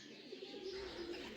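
Pigeons coo inside a pigeon loft, soft low repeated calls running through the short stretch over a steady airy background, fairly close and moderately quiet.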